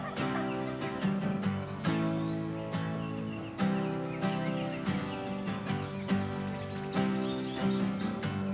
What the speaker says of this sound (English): hope that these gobblers would pitch out of the tree in my direction